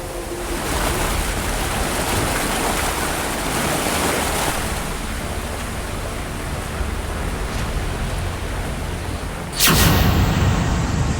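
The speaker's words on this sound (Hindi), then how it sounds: "नीचे पानी बेहिसाब वेग से बह रहा है" Floodwater rushes below at great speed after continuous rain in Ramban, a dense, unbroken roaring wash that stays loud throughout, with a sharp louder burst near the end and no speech.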